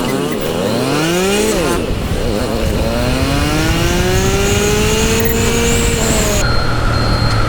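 A Honda Dream 110 motorcycle ridden on a city road, its engine note climbing and dropping through gear changes, loud and close under heavy wind rush.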